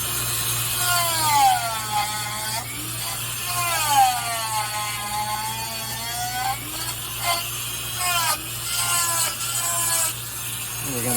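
Small rotary bit grinding and carving into a wooden wood-spirit figure, a continuous whining burr with rising and falling pitch sweeps and scraping texture, steady and close, with a constant low hum underneath.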